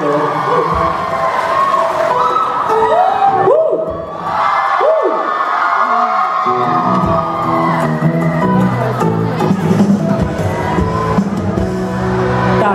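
A large crowd cheers and shouts in welcome for a singer at a university freshman welcome concert in Taipei, a loud continuous roar with whoops and voices rising throughout, and some speech mixed into the din.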